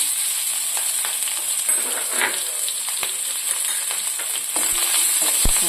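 Chopped garlic, ginger and green chillies sizzle steadily in hot oil for a yogurt tempering, a continuous soft frying hiss with a few faint clinks, heard alone.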